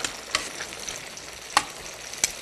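Pork pieces sear in oil in a pan alongside caramelized onions, giving a soft, steady sizzle broken by a few sharp utensil clicks as the meat is stirred.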